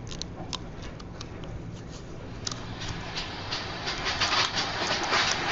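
Train noise from the video game Indian Train Travel Simulator: a steady rumbling run with rhythmic clickety-clack of wheels over rail joints, growing louder toward the end, with no talk.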